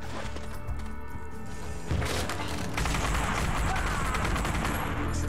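Gunfire in The Punisher video game on the original Xbox comes as dense, loud bursts of rapid shots with crashing impacts, and a voice speaks briefly near the start.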